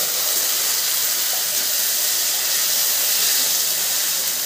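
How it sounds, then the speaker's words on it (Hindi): Ground masala paste sizzles after being added to golden-brown fried onions for jackfruit seed curry, making a loud, dense, continuous hiss that stays even throughout without talk. "अब हम इसमें डालेंगे पीसे हुए मसाला।"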